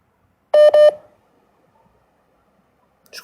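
Two short electronic phone-line beeps close together, clear and near, after a call cuts out, then near silence with a faint rustle at the end.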